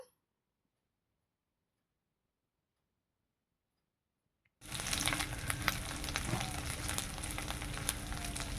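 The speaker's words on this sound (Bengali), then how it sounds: "পেঁয়াজটা ভাজা হয়ে যেতে আদা রসুন বাটা দিয়ে দিলাম।" Onion frying with ginger-garlic paste in a pan, heard as a steady close, loud sizzle after more than four seconds of silence, with faint ticking and stirring.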